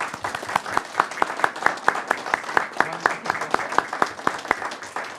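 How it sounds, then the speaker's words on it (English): A small audience at a board meeting claps steadily for several seconds, a modest round of applause with distinct individual hand claps in an indoor room. "I think you deserve a round of applause."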